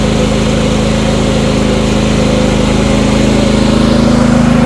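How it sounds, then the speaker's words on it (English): Portable generator running steadily nearby with a loud, even engine drone and a constant hum much like a lawn mower. "Now the generator, you heard it kind of Sounds like a mower."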